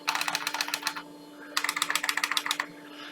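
Two quick bursts of crisp, clacky keystrokes from an IBM iSeries (AS/400) keyboard, rapid and close with a short pause between runs, with no voice over them.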